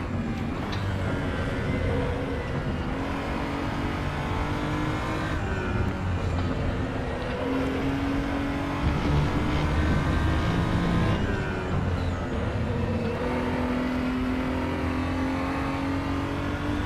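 Race car engine from the RaceRoom racing game, a steady loud drone with rising and falling revs as gears shift through the run, continuous and alone with no talk.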